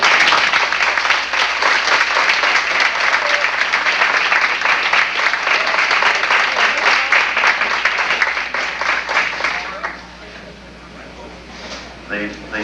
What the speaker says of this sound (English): You may applaud these people.